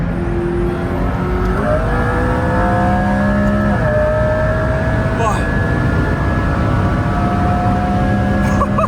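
A McLaren P1 accelerates hard at high speed on the Autobahn, its engine note rising steadily through the gears with brief dips at the shifts, loud and continuous with strong road and wind roar.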